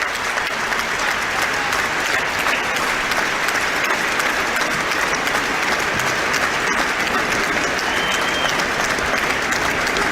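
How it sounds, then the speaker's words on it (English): A packed stadium crowd at a 2023 Six Nations rugby match between France and Wales stands and applauds, a dense, steady roar of clapping that fills the whole stretch without a break. "the whole of the stadium is on their feet to give him a round of applause"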